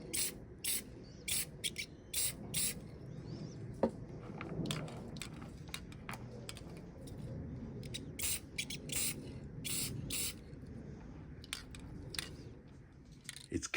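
Spray can coating a resin alien skull in a doorway during rain, with repeated short hissing bursts of varying length over a soft background patter of rain, no talking.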